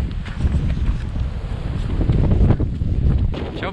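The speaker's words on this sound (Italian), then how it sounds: "C'è un po' di vento." Strong wind gusts across an open mountainside at Maslana in the Italian Alps, a loud, continuous rushing roar with buffeting on the microphone and no voices.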